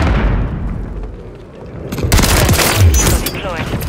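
Artillery fire mission strike in a Call of Duty Modern Warfare III multiplayer match on PS5: dense bursts of gunfire and booming impacts swell after a quieter lead-in, with radio-style game voice lines mixed in.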